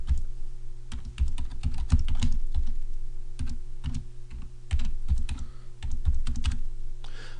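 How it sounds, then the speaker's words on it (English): Keys clatter on a computer keyboard in quick, irregular bursts with short pauses, close and clear, no voices. "So I click in here and start typing."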